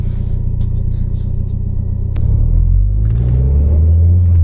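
A 1994 Toyota MR2 Turbo drives on ordinary roads, its engine producing a continuous low rumble heard from inside the cabin, with the pitch rising and thickening midway as it accelerates.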